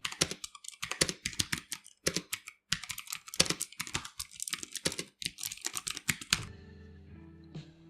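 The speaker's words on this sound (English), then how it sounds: "So here's what the Cherry MX blue switches sound like." Rapid typing on a mechanical keyboard with Cherry MX Blue switches, an open-frame design, giving sharp, crisp clicks in quick irregular bursts close to the mic, then a brief faint low tone as the keystrokes stop.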